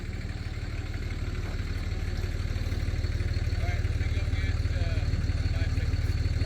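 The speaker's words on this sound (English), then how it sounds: "let's get to cutting. I'm running diesel on the blade right now. I'm cutting yellow pine." A diesel-lubricated sawmill blade cuts through yellow pine while its engine runs with a steady, loud low drone and a rhythmic mechanical clatter throughout.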